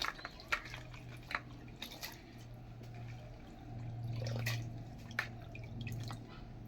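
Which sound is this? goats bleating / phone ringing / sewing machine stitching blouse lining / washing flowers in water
washing flowers in water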